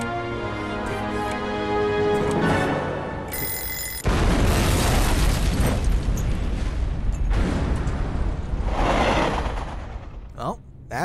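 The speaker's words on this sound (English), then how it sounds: "Oh, that's a bit of a epic explosion." Epic in-game dynamite blast at the leg of a giant statue in Syberia, a sudden loud boom that breaks in with a broad roar and rumbling debris for several seconds before fading, following ringing tonal game sounds.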